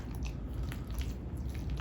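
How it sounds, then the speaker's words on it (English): Thick, creamy mashed potatoes with evaporated milk stirred in a pot, a close, steady, wet squishing and soft slapping sound throughout. "Let's give this another stir."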